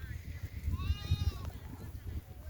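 A sheep bleats once in a shepherd's flock at a grazing spot, a short wavering call rising mid-clip over low rumbling background noise and nearby voices.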